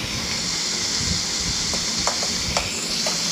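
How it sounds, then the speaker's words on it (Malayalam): Chopped onions with a pinch of salt sauté in a pan for a beef dish, giving a steady close sizzle with a few light stirring clicks and scrapes, no voices. "സവാള വഴട്ടാനായിട്ട് അറിയാമല്ലോ, അപ്പോൾ കുറച്ച് ഉപ്പ് കൂടി ഇട്ടങ്ങ് വഴട്ടിക്കണം."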